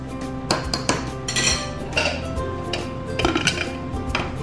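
A metal pressure cooker lid is pushed shut over a pot of potato stew, giving a run of close, bright clanks and clinks spread across a few seconds, with no talking.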